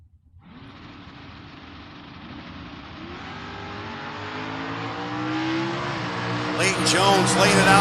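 A drag-racing Mustang and a 1968 Camaro launch together, engines building from a low rumble into a loud rising roar that swells steadily toward a sharp, crackling peak, with an announcer talking over the start.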